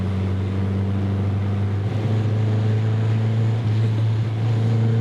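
A classic MG MGB cruises in fourth gear, its engine giving a steady, loud low hum from inside the cabin with faint road noise and no talking.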